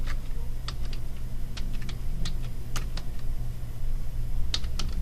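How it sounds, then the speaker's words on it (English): Answer being typed on a computer keyboard, with irregular bursts of light clicking keystrokes alone over a steady low background hum. "I can just go ahead and start typing my answer"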